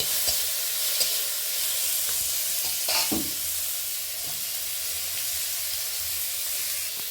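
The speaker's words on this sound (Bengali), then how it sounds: "এর সাথে দিয়ে দেওয়া হচ্ছে আগের থেকে পিস করে রাখা আনারসের পিসগুলোকে। এগুলোকে একটু ভেজে নিতে হবে প্রথমে।" Pineapple pieces frying in a cooked-down spice paste for pineapple chutney, a loud steady sizzle and hiss with occasional stirring scrapes and a sharper spatter near the middle.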